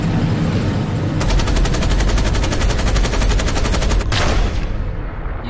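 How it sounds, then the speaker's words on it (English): Rapid cartoon machine-gun fire rattles loud and close in a sustained burst of about three seconds, then a sharp final crack with a short decay, with no talk over it. "Encroaching gunfire?"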